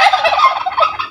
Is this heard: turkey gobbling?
yes